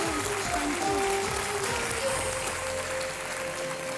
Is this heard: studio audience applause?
yes